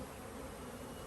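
Honey bees buzz in a steady, continuous drone around a swarm trap in a bee yard, a quiet, even hum with no voices over it.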